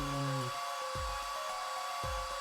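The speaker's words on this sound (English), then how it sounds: "Press space to blast it with a hairdryer." A hairdryer blasts drying plaster in the Apollo Justice forensic game, a steady airy whoosh running throughout with a few low thuds and a tone shift early on.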